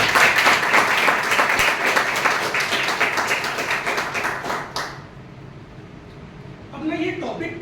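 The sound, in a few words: audience applause for a president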